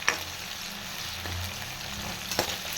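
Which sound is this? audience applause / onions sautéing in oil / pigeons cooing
onions sautéing in oil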